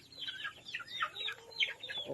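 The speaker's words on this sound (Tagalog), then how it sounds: "Yan yung mga manok natin dito guys." Chickens on a small organic farm cluck repeatedly in quick, overlapping bursts, fairly close and moderately loud, with no talking.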